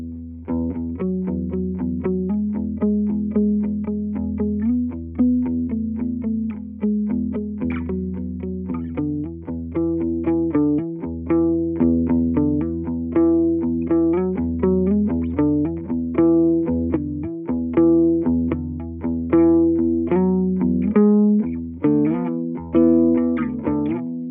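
An electric guitar runs through a PolyEffects Beebo multi-effects pedal with a touch of gain, compression and chorus-like modulation, playing continuous strummed and picked chords at a steady, fairly loud level with no one speaking.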